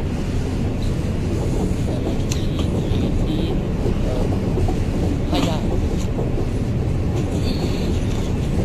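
Inside a moving passenger train, a steady loud rumble of wheels and carriage noise with faint clatter, continuous throughout with occasional muffled voices in the background.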